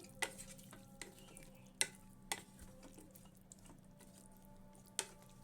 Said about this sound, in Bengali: এটাকে ভালো করে আমি নাড়িয়ে নিচ্ছি